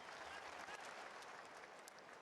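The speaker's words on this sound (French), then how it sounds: "Et les autres qui applaudissent." Spectators at an athletics championship in Budapest applaud in a steady wash of clapping, faint and distant, with no talk over it.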